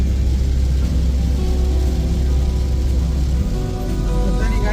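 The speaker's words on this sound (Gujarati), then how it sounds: "ધોધમાર વરસાદ થઈ રહ્યો છે" Heavy downpour heard from inside a moving car on a road, a loud steady roar of rain on the vehicle with low engine and road rumble throughout, dropping slightly near the end.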